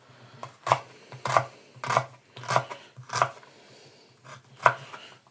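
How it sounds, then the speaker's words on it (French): Peeled vegetables cut into small pieces for a potée auvergnate cabbage stew: seven crisp knife chops on a board at a steady, unhurried rhythm, close and clear with no talking. "Donc là, on coupe en petits morceaux"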